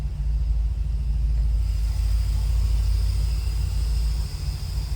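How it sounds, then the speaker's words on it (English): A 1968 Chevrolet Corvette convertible's V8 idles with a deep, steady exhaust rumble, a constant low drone heard up close and alone, without voices. "Nice rumble coming out of that V8. Deep, throaty exhaust note."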